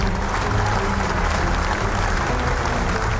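Studio audience applauding on the Vietnamese TV comedy show Ơn Giời Cậu Đây Rồi, season 6: a dense, steady wash of clapping that holds at an even, loud level throughout without a break.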